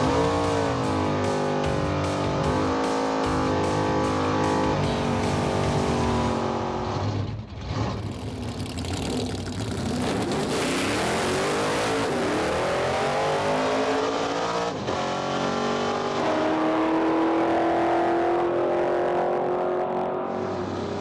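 A drag race car makes a full run, its engine roaring loud and close as it revs and launches, then pulls hard through shifts in a long sweeping howl that fades toward the end, with no talking.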